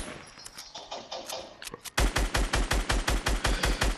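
Rapid video game gunfire in a Fortnite-style duo match: after a softer, scattered stretch, a loud steady burst of evenly spaced shots hammers close by for the final two seconds.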